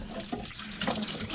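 Water gushes from the raw water pump hose of a 454 Crusader marine engine, a brief close splashing rush of liquid.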